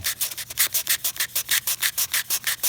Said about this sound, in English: I use a little hand sander with a pretty rough sandpaper to start working